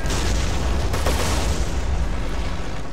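Rifle fire in the WWII strategy game Company of Heroes, heard as a dense, loud rumble of battle with thick booms and rapid overlapping shots that continues without a break.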